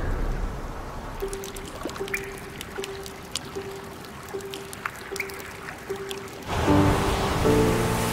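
Surf washing against the shore of St. Lawrence Island in Alaska during the spring sea-ice breakup, a steady trickling, sloshing wash with a steady low tone running through it, swelling into a louder, fuller surge near the end.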